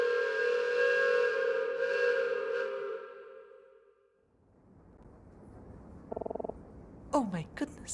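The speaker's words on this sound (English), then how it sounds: "I knew train whistles were loud, but that was completely deafening." A deafening train whistle blasts in the pixel-art detective game Detective Instinct, a long sustained harmonic shriek that fades out, followed by quieter game sounds and brief chirpy effects.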